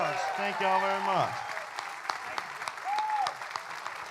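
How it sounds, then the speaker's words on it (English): Audience applause at a classic country music show by an opry band, starting under a man's singing and harmonized voices that fade out, then continuing as steady clapping with scattered louder claps and a brief spoken remark. "Big round of applause."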